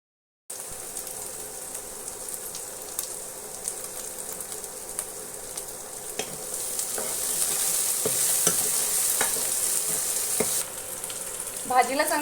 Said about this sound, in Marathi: व्यवस्थितपणे तेल सुटेपर्यंत आपल्याला हे परतून घ्यायचं आहे